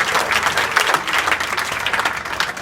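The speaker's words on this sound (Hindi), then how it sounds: "तो बेटी के लिए एक जोरदार ताली बजाएं।" Lively applause from schoolchildren at Shri Durga Ji Madhyamik Vidyalaya, Dayalpur, Azamgarh, honouring a student, fairly close and continuous with uneven bursts of clapping.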